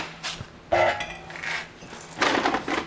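Metal pieces of a Pittsburgh disc brake caliper service toolkit clinking and clattering as they are handled, a few sharp close-up knocks and rattles at moderate volume.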